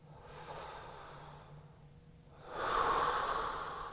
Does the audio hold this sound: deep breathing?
yes